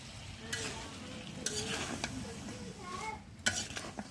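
Vegetables, potatoes and a stalk, tipped into a hot pan over a village wood-fired stove. A low sizzle runs throughout as the spoon scrapes and stirs in several distinct strokes, close and quiet.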